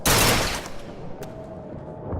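The Repeater burst gun in BioShock Infinite fires a sharp, loud burst up front, which decays into a ringing tail, followed by a faint later crack.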